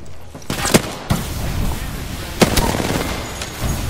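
Gunfire in the battle royale game Apex Legends: a few sharp, loud shots ring out at irregular intervals over a steady bed of game ambience, with no talk.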